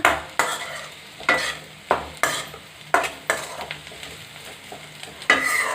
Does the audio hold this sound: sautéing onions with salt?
yes